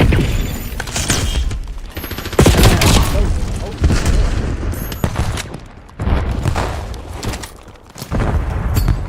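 Bursts of rapid gunfire and booming blasts from a Call of Duty online match fill the scene in loud waves, with short lulls between heavy volleys.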